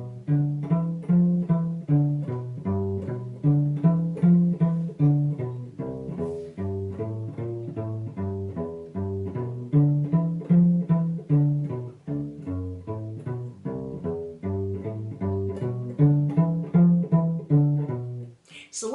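A cello plays a walking blues bass line for a 12-bar blues in G, plucked or bowed notes stepping evenly up and down in a steady rhythm, close and clear with no talking over it.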